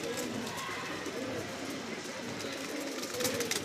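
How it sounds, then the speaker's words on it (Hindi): Pigeons cooing softly after landing, low murmuring calls repeating over steady outdoor background noise, fairly faint and distant. "ये भाई ये दोनों कबूतर उतर गए"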